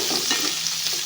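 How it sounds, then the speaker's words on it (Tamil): Onions sizzle and crackle in a pan while being stirred during sambar preparation, a steady close frying hiss over one brief second with no talking. "வெங்காயத்தை போட்டதுக்கு பிறகு நல்லா வதக்கணும்."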